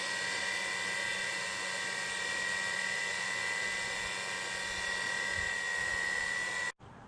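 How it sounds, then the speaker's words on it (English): A brushless starter motor spins a SWIWIN SW60 model turbine at low RPM, giving a steady high whine close up that stops abruptly near the end. "Now that's the brushless motor, it just goes in there to cool it off."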